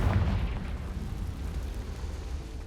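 A Confringo blasting spell explodes in the Hogwarts Legacy video game, a single deep boom at the start that rumbles and decays into a low, fading roar, heard alone without talk.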